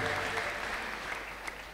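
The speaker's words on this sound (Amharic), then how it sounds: "ከዚህ በላይ እልልታ ጭብጨባ፣ ጭብጨባ፣ እልልታ ጭብጨባ" Church congregation clapping at a prophetic worship service, a steady faint wash of applause that continues without a break and has no clear ululation standing out.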